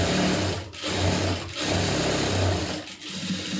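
A sewing machine stitches a lined blouse in steady, loud runs of rapid needle chatter, broken by two or three brief pauses.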